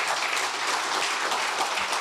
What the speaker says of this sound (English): Let's give Ariel a big round of applause.